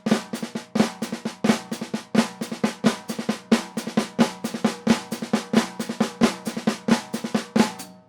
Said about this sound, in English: So slowly on the snare drum, that would sound like this.